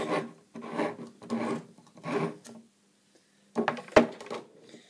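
A punched hole being enlarged with pliers while building a simple homemade electroscope, giving several short rasping, scraping bursts close up, then a pause and a sharp click or snap near the end.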